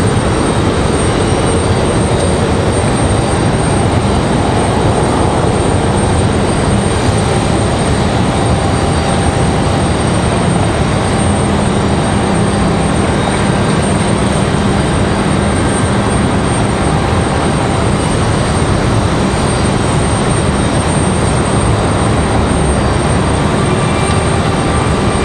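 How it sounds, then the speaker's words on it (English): A Delta CRJ regional jet on final approach at Raleigh-Durham International Airport sends out a loud, continuous broadband engine roar that holds steady and fills the whole stretch. "Delta CRJ's on final"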